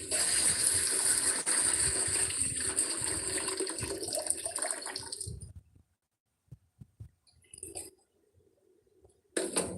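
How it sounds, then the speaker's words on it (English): Mung beans being washed in water, with a steady rush of pouring, sloshing water for about six seconds, then quieter scattered drips and splashes while the beans drain, and a final brief burst of water. "drain out, like wash several times,"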